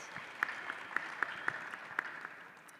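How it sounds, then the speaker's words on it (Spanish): Scattered hand claps from a small audience, sharp distinct claps spaced irregularly over a quiet room, moderately distant. "Vamos a darle un aplauso."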